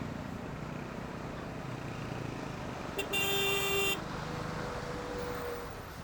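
Heavy traffic of large trucks rumbles steadily along a highway, heard from a motorbike, with a loud bright horn blast in the middle over continuous road noise.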